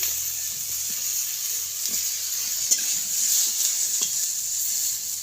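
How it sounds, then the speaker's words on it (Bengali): Chopped tomato stirred into sizzling onions in a frying pan during cooking of a small-shrimp bhuna, with a steady hiss of frying and a few soft scraping stirs, no talk. "দিয়ে দেবো একটা টমেটো কুচি"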